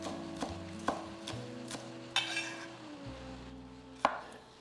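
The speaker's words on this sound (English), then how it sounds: "Chop up the spring onions and separate them into the white and green parts." A knife chops spring onions on a cutting board in a home kitchen, several sharp, separate knocks at uneven intervals, close and fairly quiet, with faint background hum between strikes.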